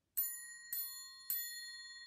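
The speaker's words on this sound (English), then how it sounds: "Now, we hold it by the string. We use a little metal beater." Three bright ringing strikes of a metal triangle hit with a small metal beater while held by its string, each tone sustaining and overlapping the next, clear and close with no talking.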